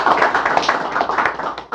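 An audience at a civic roundtable meeting claps, a short burst of dense, close hand claps with an uneven rhythm that fades slightly at the end.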